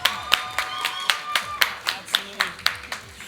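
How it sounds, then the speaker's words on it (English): A steady round of hand clapping, roughly a dozen crisp claps in an even rhythm, fairly close and moderately loud, with faint voices underneath. "Let's get a round of applause for them today."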